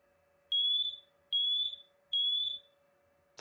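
A Meross MA151 smart smoke alarm, sounding during a test, lets out three loud, piercing high-pitched beeps in a steady rhythm, with a faint hum between them and no talking.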